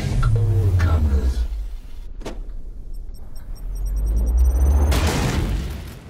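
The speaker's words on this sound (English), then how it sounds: "Can I throw a grenade now?" A grenade bursts in Warhammer 40k: Chaos Gate Daemonhunters, a loud rumbling blast that swells near the end after low engine-like droning and a sharp crack in the middle.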